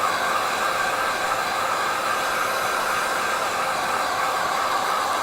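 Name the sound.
hair dryer drying a watercolour painting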